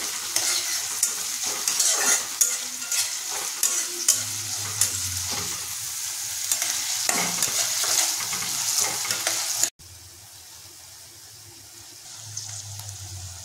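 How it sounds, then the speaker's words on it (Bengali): Chopped onion, garlic and ginger frying in a pan as a spatula stirs them, with steady sizzling and repeated scraping strokes close up, quieter toward the end. "যেহেতু এর মধ্যে পেঁয়াজ কুচি, রসুন কুচি, আদা কুচি যোগ করেছি, এটাকে আমরা ভালোভাবে খুন্তিতে কিছুক্ষণ নাড়িয়ে নেব।"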